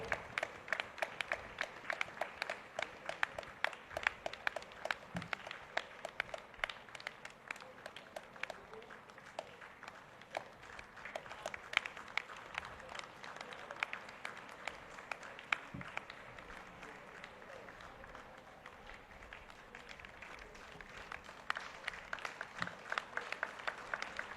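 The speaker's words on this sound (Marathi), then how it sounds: "कृपया आपण जोरदार टाळ्या वाजवून त्यांचं अभिनंदन करूया" A church hall crowd at a diocesan women's day gathering claps without a break for over twenty seconds, a dense, even patter of many hands that swells and eases slightly, heard from within the audience.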